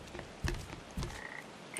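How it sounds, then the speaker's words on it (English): Frog croaks in the video game Papo & Yo: two short, loud low-pitched croaks about half a second apart, standing out over a busy game soundscape. "Oh god, a frog."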